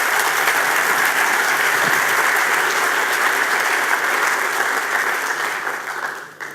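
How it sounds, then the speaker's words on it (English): A large conference crowd applauds steadily at an opening ceremony, loud continuous clapping that fades out toward the end. "please give him a big round of applause, Johann Schneider-Ammann."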